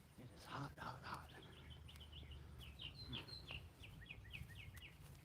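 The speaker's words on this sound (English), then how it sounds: "Can you hear the birds?" Small birds chirp and tweet in repeated short bursts overhead in an outdoor cemetery in North Carolina on a hot October day, with low background rumble and faint handling noise beneath the calls.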